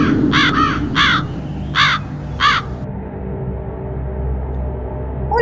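A crow caws five times in a rough, evenly spaced series, loud and close, used as an intro sound effect, then leaves a low background hum with no talking.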